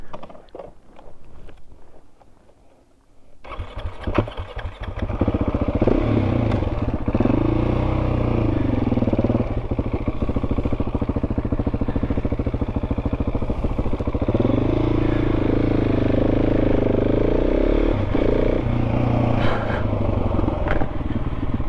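A 2024 KTM 690 SMC-R single-cylinder supermoto being ridden, with a steady, loud engine drone and wind rush that rises and falls with the throttle across several up and down gear changes, close to the rider.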